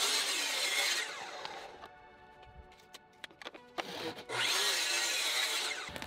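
A power saw makes a 45 degree bevel cut through composite decking, with a loud buzzing cut at the start, a quieter stretch of small taps and handling noise, then a second loud cut, all close up and without talk.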